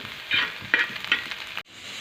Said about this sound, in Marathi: अशीच आपण भाजून घेऊ